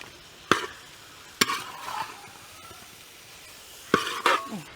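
Chopped, salted, only slightly ripe mango goes into a hot pan, with a few sharp clattering hits and a soft sizzle and stir between them, close by.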